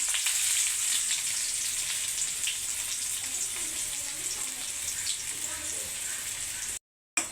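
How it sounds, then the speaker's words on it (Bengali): Onions and dried chilies frying in a pan give a steady, soft crackling sizzle that runs evenly for several seconds before cutting out briefly near the end. "পেঁয়াজ শুকনো মরিচ ভাজা হয়ে গেছে"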